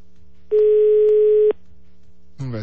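Steady telephone dial tone after a call is hung up, one loud continuous note lasting about a second, followed by a brief voice at the end over a low background hum.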